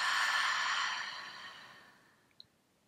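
A deep, breathy exhale during a gentle prenatal yoga flow, one long sigh that starts full and close and then fades slowly into quiet, followed by a tiny faint click near the end.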